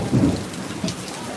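Thunder booming during a rainstorm at an outdoor theme park, a low rumble rising and fading over steady rainfall, fairly close and moderately loud.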